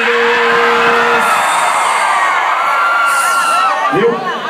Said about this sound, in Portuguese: Cadê o gritão dos solteiros?